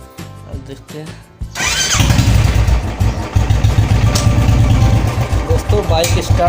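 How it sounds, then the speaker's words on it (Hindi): A Royal Enfield Bullet motorcycle, left unstarted for two months, cranks over and catches, then settles into a loud, steady, close-up thumping idle. "बाइक स्टार्ट हो चुकी दोस्तों"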